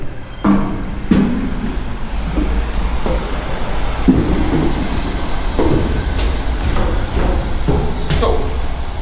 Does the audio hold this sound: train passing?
yes